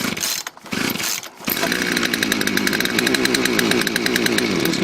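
A chainsaw cutting a tree stutters briefly as it starts, then settles from about 1.5 seconds into a loud, steady, close-up engine whine with a rapid pulsing chatter, heard alone without voices.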